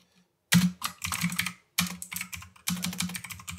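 Someone types a folder name on a computer keyboard, with dense bursts of clicking keystrokes separated by short pauses, close and crisp, with no talking.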